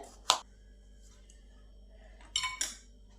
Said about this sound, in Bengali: আলুগুলোকে টুকরো করে নিই, মিহি করে কুচো করব যাতে আলুটা ঘুগনিতে গলে যায়।